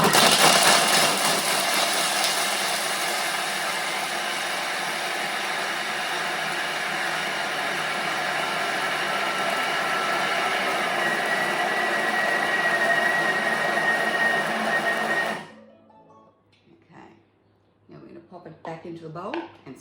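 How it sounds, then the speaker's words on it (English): A Thermomix grates at speed 10 with its lid and measuring cup fitted, giving a loud, steady whirring roar with rattling for about fifteen seconds before it cuts off abruptly, followed by quieter clinks. "And now we're going to put the lid on with the measuring cup. And then we're going to grate that for 15 seconds"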